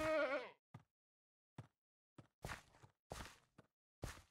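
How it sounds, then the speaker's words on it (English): Short bleats from goats in Minecraft, several brief calls spaced apart over a few seconds, fairly close and alone with no talk. "I'm goat wrangling!"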